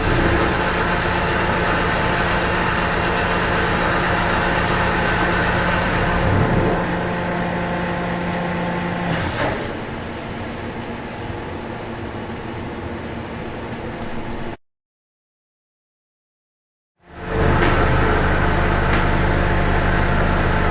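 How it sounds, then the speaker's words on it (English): An F600X1 CNC machine with a Phi 50 high feed mill cuts titanium alloy and Inconel, a steady loud machining drone that eases, drops to silence for a few seconds, then resumes. "our F600X1 achieves stable cutting using a Phi 50 high feed mill."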